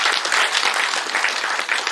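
Steady audience applause at a Gujarati literary reading event honoring a guest speaker, dense clapping that holds even and loud throughout with no voices over it.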